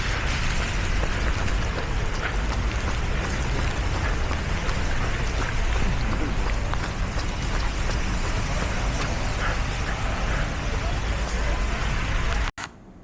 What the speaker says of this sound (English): in Vietnam, when it rains, it pours and the ground can flood very quickly